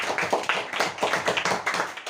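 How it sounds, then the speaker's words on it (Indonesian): Clapping for a student presentation group in a classroom session, a few people clapping close by in a quick, fairly regular rhythm over about two seconds. "Kita berikan tepuk tangan untuk kelompok 1"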